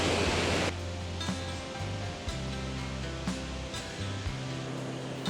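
Waterfall and rapids at Chutes Coulonge pour in a steady, loud broadband roar, with rushing water close by and no voices.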